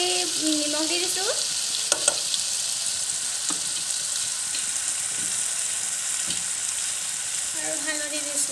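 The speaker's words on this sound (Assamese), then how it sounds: "এতিয়া মই বিলাহী পেষ্টখিনি দি দিছোঁ" Tomato paste sizzles loudly in a frying pan for paneer masala, a steady bright hiss with occasional stirring scrapes and a few faint tonal squeaks near the start and end.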